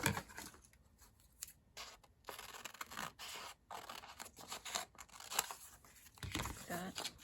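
Repeated snips and crinkles of scissors cutting paper for a junk journal, irregular and close, with paper rustling between cuts and a faint voice in the background.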